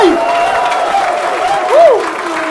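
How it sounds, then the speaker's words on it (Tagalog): Crowd applause and cheering at a rap battle event: a dense wash of clapping and shouting with a loud rising whoop cutting through midway, close and sustained. "aking pong hinihingi ang malakas na palakpakan at sigawan ng bahay katay!"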